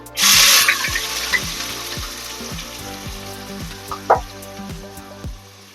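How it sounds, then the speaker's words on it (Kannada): Four medium sliced onions drop into hot oil with cardamom, cloves, cinnamon and bay leaf, bursting into a loud hiss that settles into a steady, close sizzle with occasional spits and pops. "ಗೋಲ್ಡನ್ ಕಲರ್ ಆಗಿ ಫ್ರೈ ಮಾಡ್ಕೊಳ್ಳೋಣ"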